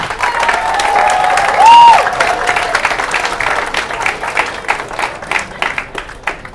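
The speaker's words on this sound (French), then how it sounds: "Donc je vous invite vraiment à l'applaudir très, très chaleureusement." Warm audience applause at a forum in honour of a speaker, a dense, sustained wash of clapping from a large crowd that stays loud, with a brief tone sounding early on and individual claps growing more distinct near the end.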